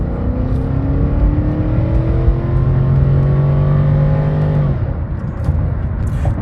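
A 2006 Cadillac DTS engine revs high and holds its climbing pitch for several seconds, then drops abruptly as the transmission shifts gears, loud and close from inside the car.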